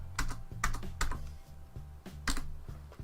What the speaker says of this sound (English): use the backspace found on your keyboard to take out the letters